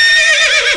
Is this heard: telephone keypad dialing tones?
no